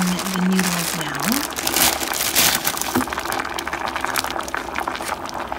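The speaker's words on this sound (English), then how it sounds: "I'm just going to add in the noodles now" Dry instant ramen noodles, Korean-style spicy kind, go into a pot in an office kitchen, with crinkling packaging, crunching and snapping of the brittle block and a bubbling simmer, under a voice talking.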